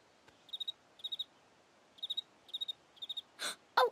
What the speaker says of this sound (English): It's that cricket, right?